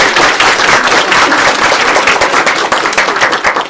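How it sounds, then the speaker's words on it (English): Audience applause at a women-in-leadership networking event, dense steady clapping from a crowd that holds at full strength for a few seconds and thins slightly toward the end. "Let's give them a round of applause, please."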